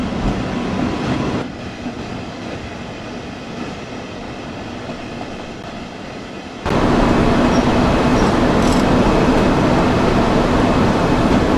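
DB BR 143 electric locomotive in the Train Sim World game, a steady rumble of running gear that drops quieter partway through, then jumps back to a louder, fuller roar for the rest of the run.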